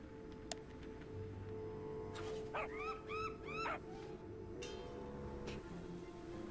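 A dog in the game Surface: Alone in the Fog gives a short series of yips and whimpering barks at moderate distance over a steady low background hum.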